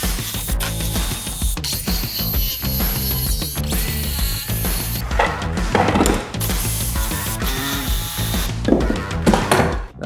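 A jigsaw cuts wood pieces for an outdoor bench with loud, close, rapid rattling strokes, interrupted by short pauses and clicks as the cut continues.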